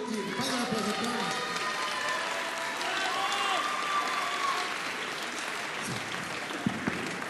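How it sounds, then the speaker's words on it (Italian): A crowd at an Italian dance competition finale and award ceremony claps steadily in dense applause that holds at a moderate level for several seconds, with some cheering mixed in. "fate un applauso a Thomas"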